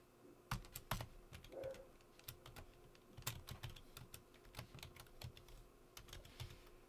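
Fingers type on a computer keyboard, with quiet, close, irregular key clicks and taps coming in quick bursts for several seconds, alone with no talking.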